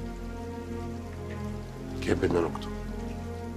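Steady rain falls outside during an indoor drama scene, a constant soft hiss heard throughout, with a brief spoken line over it midway.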